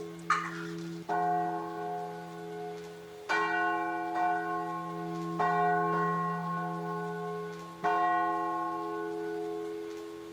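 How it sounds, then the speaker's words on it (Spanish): The Andreua, a bronze church bell of the Pi church cast in 1804 from the bronze of two older bells, strikes loudly four times at slow, uneven intervals, each stroke ringing out with a long humming decay. "La Andreua es la campana que da el mejor sonido."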